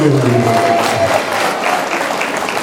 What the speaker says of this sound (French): Zapi, est-ce qu'on peut l'applaudir s'il vous plaît?